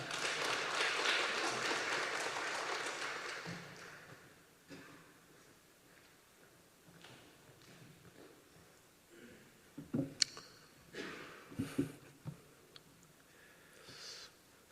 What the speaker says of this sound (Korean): 우리 목사님 나오시길 박수로 환영하겠습니다